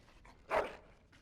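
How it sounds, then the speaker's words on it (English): A dog in Dragon Age: Origins lets out a single short bark, moderately close, against an otherwise quiet background. "Bloody dog."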